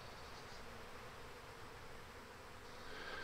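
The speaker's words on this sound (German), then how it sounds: "hier können wir den Bienen zusehen, wie sie einlaufen" Honeybees buzz softly and continuously as they walk into a Langstroth hive, a faint, even drone with no voices.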